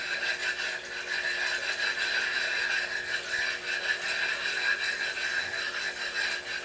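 A Naniwa flattening stone scrapes back and forth in figure-eight strokes across a wet, dished-out waterstone, a continuous gritty rasp with a steady rubbing rhythm, close and alone.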